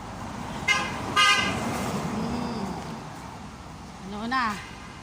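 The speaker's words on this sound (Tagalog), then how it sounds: "Ang daming sasakyan" Busy Kuwait traffic rumbles steadily as car horns toot in short blasts near the start and again near the end.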